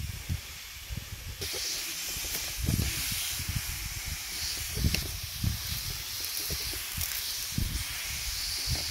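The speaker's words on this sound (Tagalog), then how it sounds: "So spray lang sa kay upat naman siya kabulan." Young coffee plants about four months old are sprayed, giving a soft steady hiss with low rustling and thumps underneath, fairly quiet throughout.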